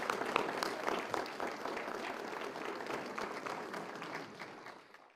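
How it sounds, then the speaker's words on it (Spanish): An audience at a social security week event applauds a deputy, a steady mass of clapping that holds fairly even and then thins out toward the end. "Un aplauso, por favor, para ella."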